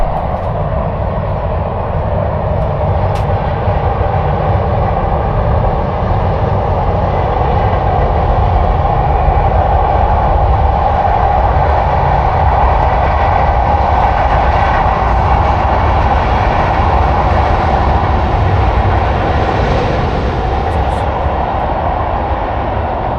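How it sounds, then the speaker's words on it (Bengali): A small train crosses the Padma Bridge, producing a loud, continuous, even rumble and roar of wheels and carriages that holds steady for over twenty seconds, with no one talking. "ছোট্ট একটা ট্রেন।"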